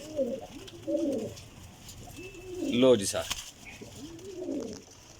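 Racing pigeons coo repeatedly nearby in low, throaty bursts, with someone speaking briefly in between.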